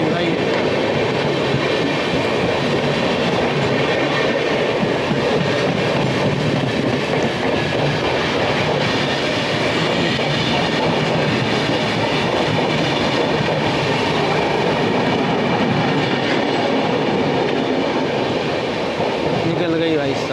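The Prayagraj Lalgarh Superfast Express overtakes on a neighbouring track, heard from aboard a moving train as a loud, continuous rumble of wheels and rail noise throughout.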